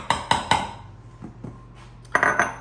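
A spoon scrapes ghee from a container into a bowl while making a keto cheesecake, giving three sharp metallic clinks, a few softer taps, then two more bright clinks near the end, close and with no talking.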